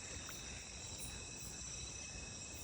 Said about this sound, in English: I could hear some really uncommon frogs calling